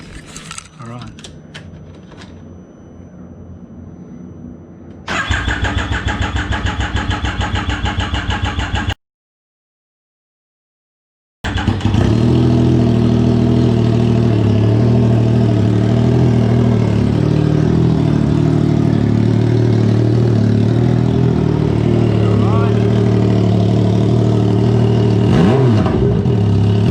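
An 850cc go-kart engine cranks and catches, then settles into a loud, steady idle with revving, all close up. The running stops abruptly for a couple of seconds, then the engine roars back up and keeps running hard.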